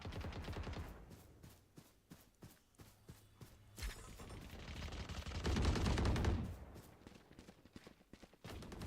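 Bursts of gunfire in a Valorant match, with sharp repeated shots and a louder cluster of fire in the middle, including headshot hits.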